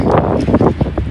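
Steady wind buffets and rumbles across the microphone, loud and gusty for a brief moment with no other clear sounds.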